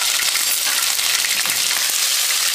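Hot oil left over from frying chicken sizzles loudly and evenly in a wok while Chicken Schezwan is being cooked, a dense continuous hiss with faint crackles and no speech.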